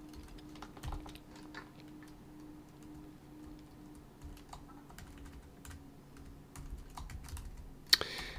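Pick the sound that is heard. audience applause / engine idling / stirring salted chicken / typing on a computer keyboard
typing on a computer keyboard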